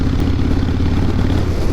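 A Kawasaki Vulcan motorcycle engine running on a back road, a loud, steady low throbbing rumble up close for a short stretch.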